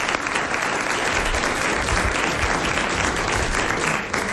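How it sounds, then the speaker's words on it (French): A TV studio audience breaks into steady, loud, dense applause that holds for several seconds without talk over it. "On peut l'applaudir pour ça."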